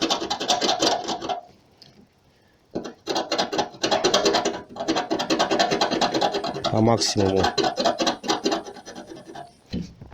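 Harsh rasping abrasion in long strokes as rust spots are sanded off a car body under the primer, loud and close, with a brief quiet gap and a short pause near the middle.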